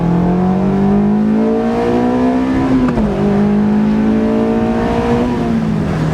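A Honda S2000 engine revs up into VTEC, its note climbing and hardening with a brief shift dip midway, loud and close from inside the car with no talking.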